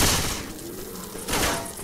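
Bursts of gunfire in the Left 4 Dead 2 multiplayer video game, a loud rattling volley at the start and another near the end, with thuds between them and no talking.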